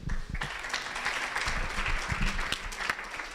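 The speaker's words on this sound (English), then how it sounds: "Nice round of applause for Mererik" A startup pitch event crowd gives a round of applause for a presenter, a steady wash of many hands clapping at moderate distance, fairly soft and continuous with a few sharper claps standing out.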